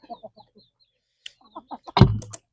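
Chicken clucks in short bursts near the microphone, a handful of separate calls followed by one louder squawking outburst, heard outdoors alongside Thai Isan cooking of larb with no talking over it.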